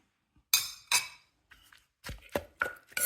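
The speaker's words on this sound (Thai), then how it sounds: "เอาเห็ดลงไปโขกเลยนะคะ" Mushrooms are pounded in a mortar for a Thai chili paste, giving sharp, close knocks in uneven clusters, two strikes, a pause, then a quicker run of several more.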